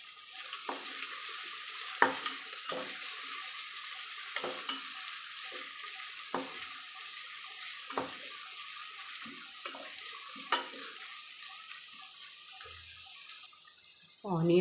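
Two small onions fry in two tablespoons of oil in a home kitchen, a soft continuous sizzle broken by repeated clinks and scrapes of a stirring spoon, with no talk over it.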